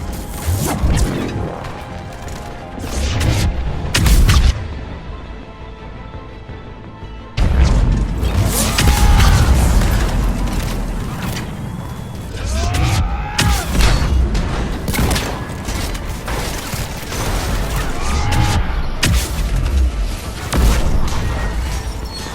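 Heavy cannon fire and explosions in the Mass Effect 3 video game, loud repeated booms and crashes with whooshing impacts across a dense battle soundscape, with a short quieter lull partway through.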